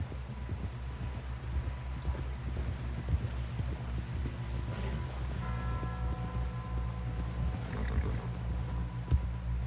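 Horse hooves clopping in a PlayStation 4 video game ride, a steady rhythmic trot up close under game music and ambient noise with no talk.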